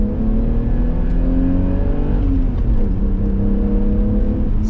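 BMW E34 535i with a 3.7-litre M30 inline-six accelerating hard, a loud, close, continuous engine drone rising steadily in pitch, alone without speech.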